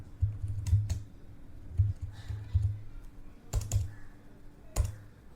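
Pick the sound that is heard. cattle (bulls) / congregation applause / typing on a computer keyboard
typing on a computer keyboard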